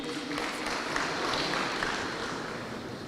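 Crowd applause at a Kakamega school event for the Butere boys, sustained broad clapping from many hands, fairly loud and even throughout with a slight fade toward the end.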